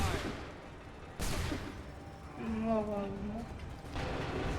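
Musket volley fire in Assassin's Creed III, two sharp broadband bursts of gunfire crackling over a busy battle bed, with a shouted command voice audible in between.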